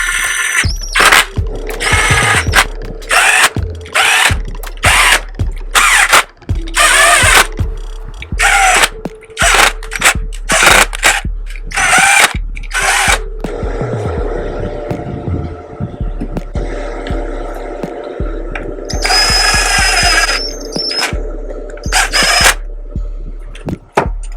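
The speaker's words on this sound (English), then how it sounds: "we're going to go ahead and get our bolts put in there and tighten down" Power tool driving and tightening bolts on a Yamaha YZ250F engine bottom end during a rebuild after crank failure, with repeated short loud whirring bursts separated by brief pauses and ratcheting clicks, close up with no talk.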